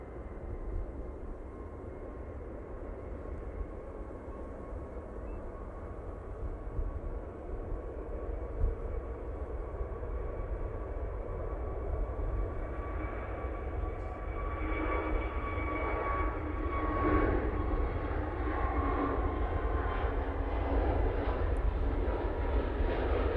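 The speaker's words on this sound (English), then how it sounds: "Jet2, now on the roll." A Jet2 airliner rolls for takeoff at Manchester Airport, a steady heavy engine roar that builds slowly and stays continuous, heard from a distance with no talking.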